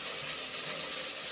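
Raw chicken pieces for biryani being rinsed by hand in a bowl of water, a brief close churning splash and slosh heard on its own.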